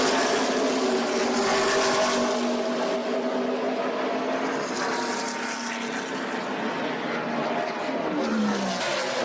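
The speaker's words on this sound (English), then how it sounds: "Here comes the 18 Bobby Labonte and the 75 Dave Marcus car." Stock race cars on a warm-up session at a racetrack roar past in a continuous, loud wash of engine noise, rising and falling as the cars go by, with no voices.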